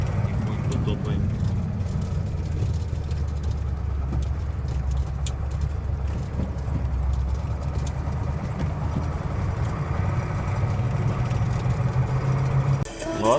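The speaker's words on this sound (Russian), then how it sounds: "Вон машина идет." A car drives along a slushy, potholed spring street in Zyryanka, its engine rumbling steadily and close throughout over a busy, muddy thaw-time street scene.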